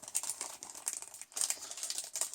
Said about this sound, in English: I'll be removing the back card from the next few